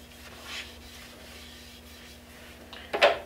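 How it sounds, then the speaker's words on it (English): A metal badge is rubbed clean with alcohol, giving a soft, steady rubbing noise close by, ending in a brief louder scuff near the end, with a low hum underneath. "I'm gonna clean it up with a little bit of alcohol."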